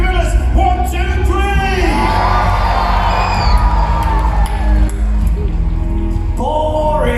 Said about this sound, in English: give us a cheer and scream for my new best friends, the gorillas